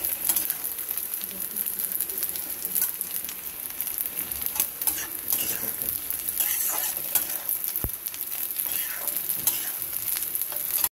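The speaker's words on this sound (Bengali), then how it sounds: "আমি এই যে চালটাকে ভেজে নিচ্ছি।" Basmati rice being dry-fried in a pan gives a continuous dense sizzle with scraping stir strokes and rattling grains throughout, close and steady.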